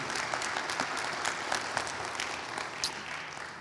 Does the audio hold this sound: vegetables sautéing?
no